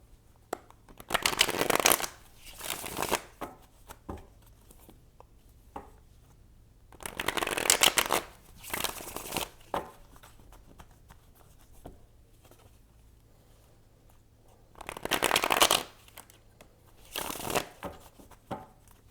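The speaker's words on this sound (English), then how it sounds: "Let me shuffle these one more time." Bursts of tarot card shuffling, a riffle roughly every few seconds with quieter handling and soft card taps in between; close and clear, no talking.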